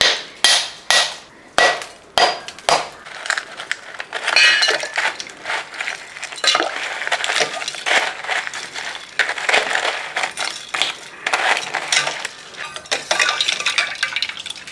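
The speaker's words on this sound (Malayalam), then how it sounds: "ഇനി ഇതിനകത്തോട്ട് നമുക്ക് കുറച്ച് ഐസ് കൂടെ നമുക്ക് ഇടാം" Ice cubes clatter and clink into a glass of lemon drink, a run of sharp separate knocks at first, then a busier jumble of tumbling, crunching cubes knocking against the glass.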